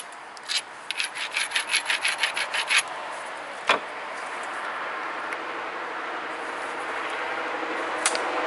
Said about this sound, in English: And I'm gonna grind north and south.